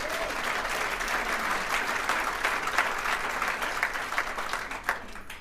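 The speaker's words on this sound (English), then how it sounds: "Give him a big round of applause." Steady audience applause at a political regional address in Washington, D.C., a dense wash of many hands clapping throughout, fairly loud and continuous with no talk over it.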